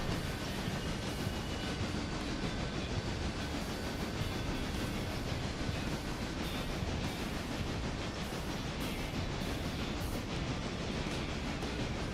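A train rumbles by close up with a steady roar and rhythmic clickety-clack of wheels on rails, continuous and fairly loud the whole time.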